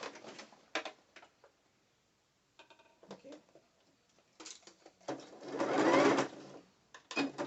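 A sewing machine stitches a half-lined thong bikini in short bursts, with one longer, louder run of rapid stitching near the end and quiet pauses between.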